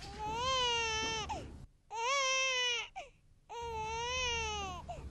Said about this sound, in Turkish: Siz de bir bebek ağlaması duyuyor musunuz çocuklar?